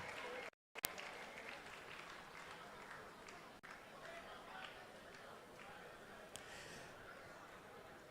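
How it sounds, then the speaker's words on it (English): Audience at the NSMQ 2024 grand finale applauding for Accra College of Medicine, steady crowd clapping with a brief dropout near the start. "A round of applause, a round of applause"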